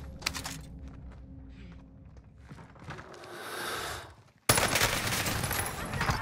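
Automatic gunfire in the Warzone Pacific shooter game opens with a brief burst, then breaks into a loud, dense stretch of firing after a quieter lull with faint footsteps and effects.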